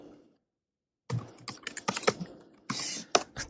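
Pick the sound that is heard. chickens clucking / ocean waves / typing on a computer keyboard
typing on a computer keyboard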